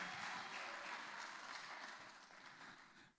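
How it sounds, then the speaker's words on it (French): A church congregation applauds mothers during a sermon: dense, even clapping that is fairly faint and gradually fades out near the end, with no voices over it. "On peut les applaudir."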